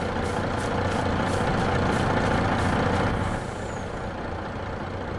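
A truck engine idles in Farming Simulator 22, a steady dense rumble with a loud broadband hiss that drops slightly in level partway through, continuous and close with no talking.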